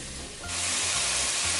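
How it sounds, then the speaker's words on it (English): Onions and vegetables for matzo ball soup sauté in a pan with a steady, close sizzle that swells into a brighter, louder hiss and keeps going throughout. "we're just going to saute now until the onions look translucent"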